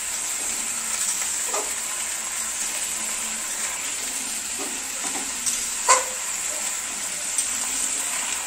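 Vegetable curry with potatoes and stalks cooking in a pan while being stirred with a bamboo stick: a steady hiss of frying with sparse soft scrapes and one sharper knock near the end.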